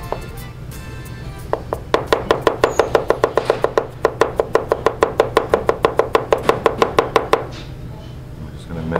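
A knife rapidly minces food on a cutting board in a steady run of sharp, close taps, about thirty quick chops in a few seconds, with faint kitchen background before and after.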